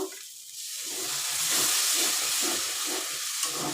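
Hot water poured into a pan of spiced curry with chitol fish dumplings, breaking into a loud, steady steaming hiss and sizzle that swells and holds, close up with no voices.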